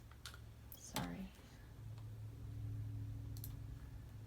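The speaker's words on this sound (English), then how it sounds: "She's typing in the account number." Scattered keystrokes on a computer keyboard as an account number is entered, light clicks under a low background hum, with a brief voice partway through.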